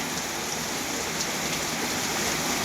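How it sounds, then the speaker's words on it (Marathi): Heavy unseasonal rain pours down over farmland in Dhandegaon in a loud, unbroken hiss, drops drumming steadily on surfaces close by with no other sounds. "आज धांडेगाव येथे अतिवृष्टी पावणी पाऊस चालू आहे"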